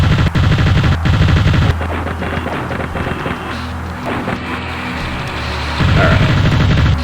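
Aircraft cannon fire in the flight combat game Fighters Anthology, with loud rapid bursts at the start, a quieter stretch of engine rumble in the middle, and another burst at the end.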